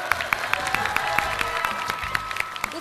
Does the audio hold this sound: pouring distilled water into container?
no